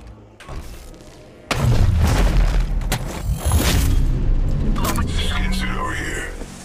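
Gunfire and booming impacts in the mobile shooter Apex Legends Mobile, starting abruptly loud after a quiet lead-in and rolling on in dense bursts, with a character voice calling out amid the shots.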